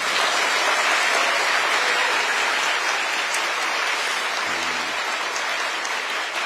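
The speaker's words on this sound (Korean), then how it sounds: "박수도 한번 하세요." Audience applause in a hall of newly hired public officials, a dense steady clapping that holds at an even level throughout, with no talk over it.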